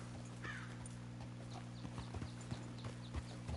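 Horse hooves clip-clopping at a run in the video game Red Dead Redemption 2, a light irregular patter of hoofbeats over a steady low hum, with an occasional faint whinny-like tone.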